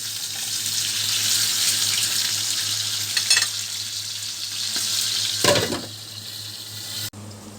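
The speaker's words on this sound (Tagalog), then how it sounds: "yung kabila naman ang ating iprito sandali" Pork belly frying in hot oil in a pan, a continuous bright sizzle holding steady, broken by a couple of short clattering bursts of stirring or handling, then cutting off abruptly near the end.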